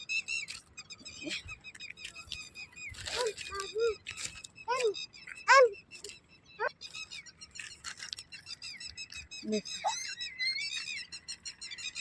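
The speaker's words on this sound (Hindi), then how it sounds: "देखिए चिड़िया बोल रहे हैं, सब वही बोल रही हैं।" Birds chirp and whistle outdoors in bursts of short, high calls, some near and some farther off, with a voice talking briefly among them.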